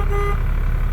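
A brief, close electric city horn toot on a Class A truck parked with its engine idling during a pretrip inspection, one short tone over a low engine rumble.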